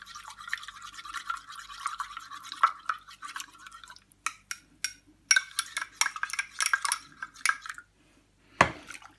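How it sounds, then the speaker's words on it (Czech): Salt and a splash of water stirred together in a bowl to make a rub for pork neck slices before quick smoking: close, scratchy scraping and swishing in uneven bursts, with brief pauses and no talk. "Tak, do soli natočíme trochu vody. Tak to v tom promíchám"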